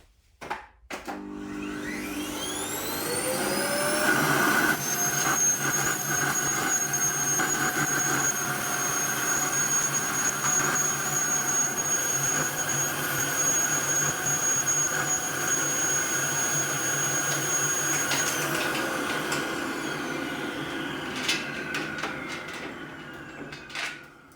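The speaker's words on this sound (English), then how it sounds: "Did I say there's gonna be no cleaning or vacuuming today?" A vacuum cleaner in a woodworking shop starts up with a rising whine, then runs loud and steady with a high tonal squeal for about fifteen seconds before winding down, with no talk.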